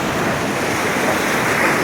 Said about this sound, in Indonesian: ombak terus ada karena ini adalah laut